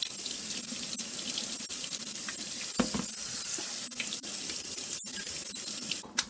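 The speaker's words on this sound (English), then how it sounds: "Now we're going to rinse it with the cold water," Cold tap water gushes over cooked pasta being rinsed in a sink, a loud, steady broadband splash running the whole time with a small clatter near the end.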